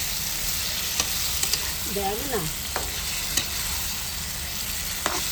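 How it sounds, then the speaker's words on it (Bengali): Meat fries in a pan with a soft, continuous sizzle and a few light clinks of stirring. A voice speaks briefly in the background. "ভাজা চলছে।"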